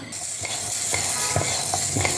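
Lentils dry-roast in a pan for melagai podi, with brisk scraping strokes and rattles of a spatula repeating close and loud over a faint background hiss.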